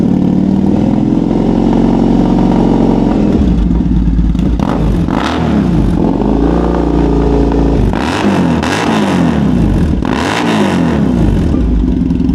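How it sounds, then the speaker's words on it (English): A Triumph Bonneville's big-bore parallel-twin engine runs loud and close, a steady idle thump rising into several throttle blips and revs, then falling back. "the Bonnie still has those classic big bore parallel twin sounds"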